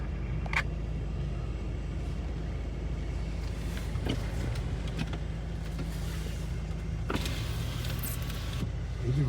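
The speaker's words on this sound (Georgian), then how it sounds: "დავით, რა მაგარი ფუნქცია აქვს შენ მანქანას, ორივე კარინო იღება ერთდროულად." A parked car's powered function opens both doors at once, giving a low motor hum and rumble under faint clicks and a few sharp latch clunks near the start and end, close by.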